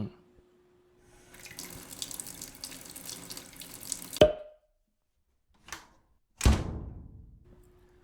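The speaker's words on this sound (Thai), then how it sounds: "เป็นผู้นำเอาจานมาล้าง" Dishes being washed under a running kitchen tap: a steady stream of water for about three seconds, then a sharp clatter of crockery, a brief knock and a final splash as the water resumes, close and alone.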